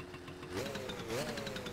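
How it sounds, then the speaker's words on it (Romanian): A moped engine runs steadily, with a low droning hum that rises slightly in pitch twice, near and continuous for the whole moment, with no other clear sounds over it. "Aș vrea să vezi și motorul pornit."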